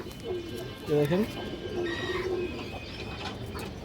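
A lively, restless short-beaked pigeon with red eyes coos nearby, giving a few rising throaty calls over a steady background hiss, with fainter cooing afterward.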